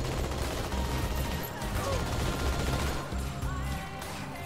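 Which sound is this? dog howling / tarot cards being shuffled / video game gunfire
video game gunfire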